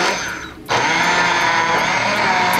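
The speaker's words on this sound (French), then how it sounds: "Maintenant avec mixeur plongeur nous pral mélanger toutes légumes, toutes feuilles qui ensemble là." Immersion blender puréeing a mix of vegetables and leafy greens for a homemade bouillon paste, a steady loud whirring drone that starts abruptly after a brief quieter moment and runs continuously with no talking.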